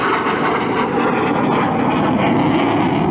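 Tornado jet engines roar on afterburner during a hard 5 to 6 G turn at an air display, a loud, dense, continuous rumble with no breaks, heard from the crowd line.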